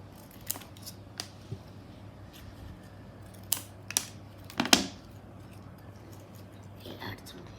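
Scissors snip through friendship bracelet threads in a series of short, crisp cuts, a few isolated clicks followed by a quicker cluster, close and fairly quiet against a low steady hum.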